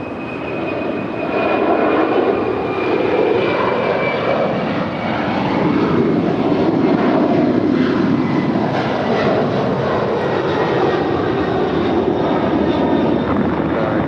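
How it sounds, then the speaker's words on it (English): A FedEx Boeing 767-300 freighter jet departs LAX, its engines a loud, sustained roar with a thin high whine running through it, steady across the whole stretch with no voices. "that's FedEx 3901 heading to Newark 3901 heavy. on a Boeing 767-300 freighter"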